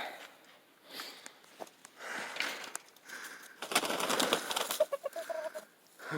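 Chickens cluck and shuffle in a snowy coop, faint, scattered clucks mixed with rustling and a brief burst of wing flapping near the middle, all fairly distant and quiet.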